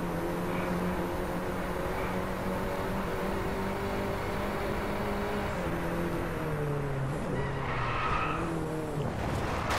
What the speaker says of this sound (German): Ich bin ins Rutschen gekommen